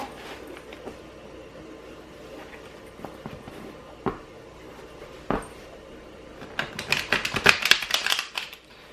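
Scattered soft tarot card taps, then a quick burst of riffling clicks as the deck is shuffled close by, fairly quiet overall.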